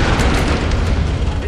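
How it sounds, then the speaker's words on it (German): Explosion in the Tomb Raider video game: a loud, sustained rumbling blast filling the whole moment with dense low-end roar and crackling debris, with no clear voice over it. "Eine größere Explosion."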